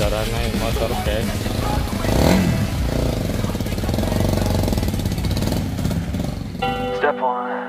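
Honda CBR250RR motorcycle engine running loud and close with a rough, continuous throb throughout, giving way to a brief musical tone at the very end.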